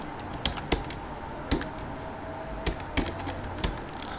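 Someone types on a computer keyboard with sparse, uneven keystrokes, a few sharp clicks separated by pauses against a quiet room hum.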